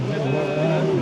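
Single-seater race car at a slalom event, its engine a loud steady drone with a rising whine as it passes close, under a commentator's voice talking throughout.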